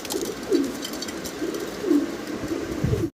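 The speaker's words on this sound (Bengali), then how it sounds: "আরো এক জোড়া কবুতর দেখাচ্ছি ব্ল্যাক কালারের সিরাজি কবুতর" Several soft, low coos from black Sirazi pigeons come in a slow, repeating pattern over a continuous murmur of background noise.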